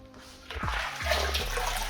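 Hot water poured into a kitchen sink while cooking Italian sausage, a steady splashing rush that starts softly and swells louder after the first half second, running continuously to the end.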